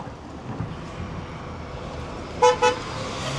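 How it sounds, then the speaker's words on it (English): Two short car horn toots sound close together on a busy downtown Los Angeles street near Pershing Square, rising over steady traffic rumble and wind noise. "They're just honking at somebody in the street."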